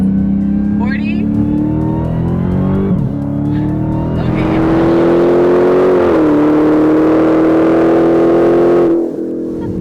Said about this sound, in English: and I'll do another pull in second gear